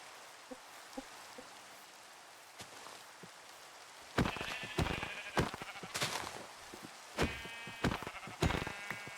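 Sheep bleat several times in the Minecraft video game, fairly loud and close, with rain pattering steadily in the background.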